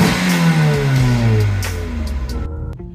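A Hyundai Veloster accelerating away on a drive, the engine note rising through the revs and then falling as it shifts, loud and close from inside or beside the car, with no talking.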